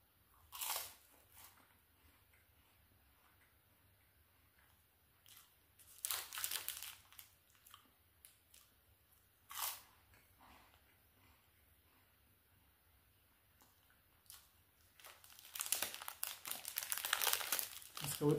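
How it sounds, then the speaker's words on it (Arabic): Bites and crunches from a cappuccino cream biscuit, a cheap Egyptian snack, come in a few sharp separate bursts early on, then turn into denser, louder crunching and crinkling toward the end, with no talk. "باكل البسكوت ده ب5 جنيه بس، بطعم جديد، طعم كريمة الكابتشينو"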